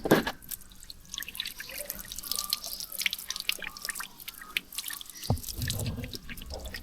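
Water runs over Yamaha XMAX 300 scooter parts being washed, with continuous dripping, splashing and trickling up close and a heavier splash near the end.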